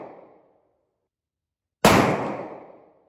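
A single suppressed rifle shot lands sharp and close after a brief quiet, then its echo fades away over the following second.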